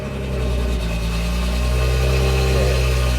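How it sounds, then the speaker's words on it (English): A BMW engine idles through its first cold start after an ECU unlock, a steady low drone that swells slightly and then holds, close and continuous. "about to go ahead and give it its first cold start"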